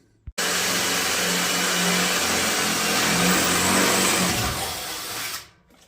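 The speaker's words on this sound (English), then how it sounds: "So let's drill some holes." A power drill boring holes for gauges in the steel of a trailer BBQ smoker, a steady loud whining motor run lasting about five seconds after a brief click, then winding down.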